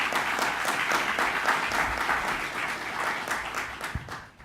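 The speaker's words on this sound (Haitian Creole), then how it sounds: "Sur vos applaudissements, Najla." A studio audience at a Creole-language radio and television panel broadcast applauds a guest with thick, continuous clapping. It holds loud and even, then thins out near the end.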